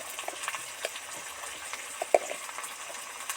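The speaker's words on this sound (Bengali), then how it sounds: "মশলাটা ভাজা হতেই থাকছে" Spices frying in a pan for mutton curry, a soft, steady sizzle with faint scraping stirs and an occasional sharper pop or clink.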